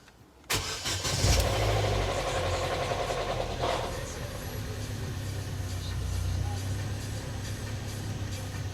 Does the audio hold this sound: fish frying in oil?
no